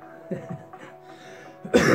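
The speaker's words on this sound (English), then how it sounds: "I'm still coughing that exercise up from earlier" A person coughs hard several times in a burst, loud and close, after a stretch of quieter low sounds.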